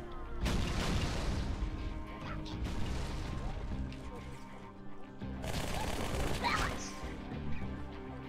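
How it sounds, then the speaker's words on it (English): A grenade blast in the video game Halo 2 arrives as a loud crashing burst, followed moments later by a second heavy explosion amid ongoing gunfire and battle noise. "Grenade."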